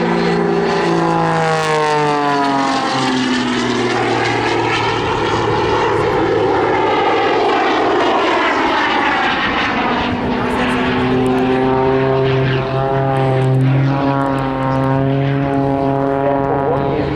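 A Jet Pitts aerobatic biplane performing at Southport Airshow 2024 roars steadily overhead, its engine pitch sweeping up and down as it maneuvers, loud and continuous throughout.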